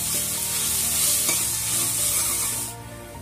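Biryani masala with a handful of coriander and mint leaves is stirred in a hot pot for mutton biryani, a close, steady sizzle with scraping strokes of the spoon, fading out at the end.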